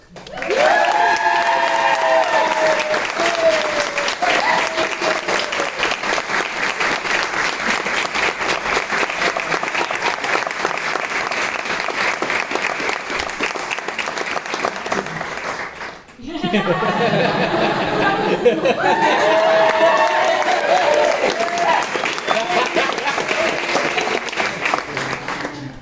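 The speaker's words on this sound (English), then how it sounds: "please applaud Mr. and Mrs. Janse van Ryn." Wedding guests at a ceremony applaud the newlywed couple in a long, steady burst of clapping mixed with laughter and chatter, briefly dipping midway before swelling again, with voices heard over it.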